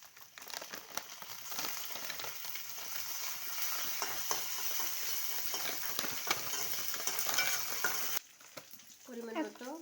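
Onions frying in oil until reddish for an egg and potato curry, a steady close sizzle with faint stirring scrapes, cutting off near the end.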